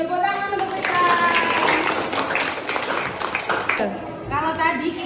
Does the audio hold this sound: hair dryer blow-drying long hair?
no